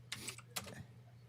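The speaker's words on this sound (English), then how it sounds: "I'll just do it with my loud keyboard." Clattery keystrokes on a loud computer keyboard, a short burst of a few quick clicks close by, otherwise quiet with a low hum underneath.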